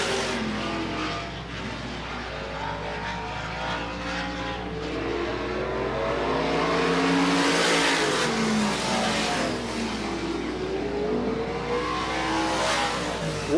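Supermodified race cars lap Sandusky Speedway in a 1985 twin 30-lap A main, engines roaring loudly in a steady continuous drone that swells as the pack sweeps past, with no voices.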